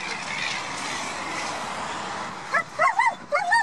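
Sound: puppies barking and whimpering

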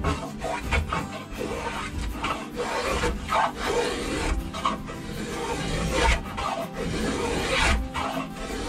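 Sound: spoke shave carving a wooden wind turbine blade

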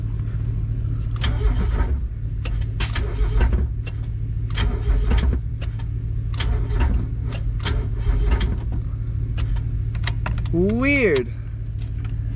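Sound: Mazda Miata engine cranking, firing, then shutting off

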